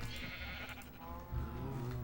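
Sheep bleating in Minecraft, from a pen of white and black sheep being bred, the blocky game bleats sounding close and continuous over a low ambient hum.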